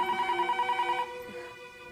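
A telephone rings with a rapid, trilling electronic bell in short repeated pulses for about a second, then falls silent and leaves only faint room tone.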